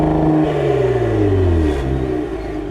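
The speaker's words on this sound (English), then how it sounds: "As for the exhaust note, well, it sounds fine." A 2020 Cadillac CT5-V's engine revs and rumbles through its quad exhaust with a deep, throaty note, the pitch sliding down as it settles, close and loud throughout.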